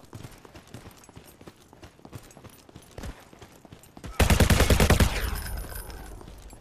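A gun in the VR game Alvo on Meta Quest 2 fires a loud, fast automatic burst of closely spaced shots after scattered quieter game sounds, the rattle fading out with a lingering ringing tail.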